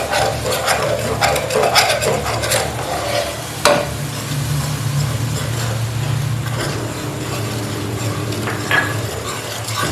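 Masala for a cabbage and potato sabzi sizzles loudly in a pan after a splash of water, with steady frying hiss, scraping stirs and occasional clinks of a utensil against the metal, close by and with no talk.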